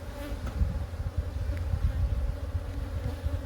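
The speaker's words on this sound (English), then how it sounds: "Good volume of bees here." Honeybees hum steadily at an open hive during an inspection, a dense, continuous buzz close to the microphone with light wind noise and no talking.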